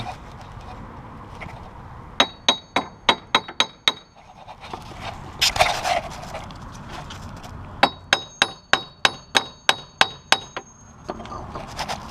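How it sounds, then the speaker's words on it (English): Two bursts of sharp metallic hammer taps on a front hub bearing assembly of a 2000 Chevy Cavalier, about eight quick strikes each, ringing brightly, with a brief rustle between them. "take your hammer and gently tap, alternating on this side and this side"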